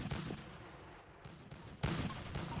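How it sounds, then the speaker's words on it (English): Cannons fire in a video game minigame, heavy booming blasts that pound repeatedly and close over a dense, noisy backdrop, with a sharp loud burst near the end. "Fire the cannons!"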